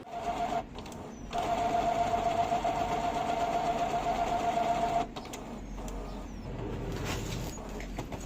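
Brother inkjet printer whirring and buzzing steadily through a head cleaning cycle, a close mechanical drone with a sustained tone that stops abruptly, followed by lower motor hum.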